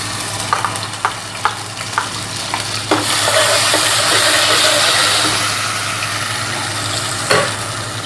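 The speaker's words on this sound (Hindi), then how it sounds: "अदरक और लहसुन का पेस्ट इसमें शामिल किया। अच्छी तरीके से भूनने के बाद" Ginger garlic paste sizzles loudly in a hot pan as it is stirred, starting with several scraping taps and then settling into a steady, close frying hiss.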